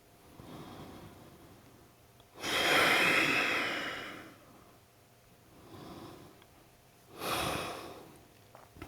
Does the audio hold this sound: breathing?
yes